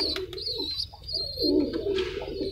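Teddy pigeons in a loft where breeder pairs sit on eggs: several low throaty coos rise and fall in quick succession, close by and moderately quiet, with thin high chirps mixed in.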